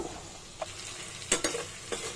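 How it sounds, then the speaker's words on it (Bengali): Fish pieces being mixed by hand with salt and spices, heard as soft, wet stirring and a few brief, crisp scrapes against quiet background noise. "মাছগুলো সুন্দর করে মেখে নেব"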